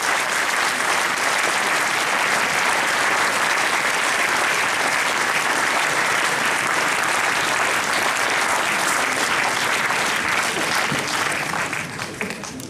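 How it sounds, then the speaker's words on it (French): A hall audience at a mayor's New Year address in Les Sables d'Olonne claps loudly and evenly for a long stretch, a dense unbroken ovation that starts to thin out only at the very end. "Je vous demande encore une fois d'applaudir mon équipe"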